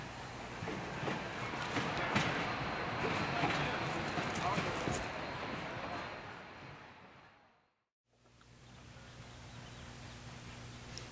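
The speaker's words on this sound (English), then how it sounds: "The train crosses the Red Clay Creek once more before arriving at the Mount Cuba Picnic Grove." A steam double-header train on the Wilmington & Western Railroad rumbles along steadily with rhythmic clatter and a broad roar, close by, then cuts briefly to silence before a quieter engine hum with a low drone.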